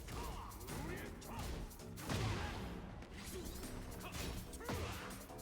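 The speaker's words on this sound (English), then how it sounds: "Big launcher by DADUSTY." A powerful launcher attack connects in a Tekken grand-finals match between a Law and a Jin player, a sharp smashing whack with a swish amid busy game effects and tournament commentary, with a louder impact burst near the middle.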